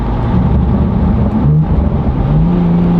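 A BMW G87 M2 with a modified intake holds a loud, steady engine drone up close, with a rising rev toward the end and no talk over it.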